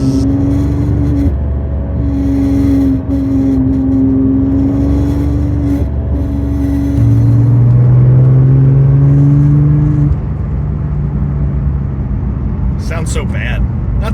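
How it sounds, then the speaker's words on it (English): A Porsche 996 Turbo engine drones loudly at steady revs around 3,000 RPM, with a persistent buzzing rattle from a loose headliner, heard from inside the cabin. "there's something loose in the headliner, and every time the exhaust hits a certain RPM, like around 3 grand, it's"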